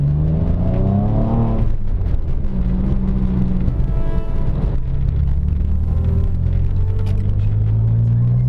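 A Porsche Boxster S engine runs just after intake work on the plenum and throttle body, revving up close at the start and then settling into a loud, rumbling idle with a few brief blips.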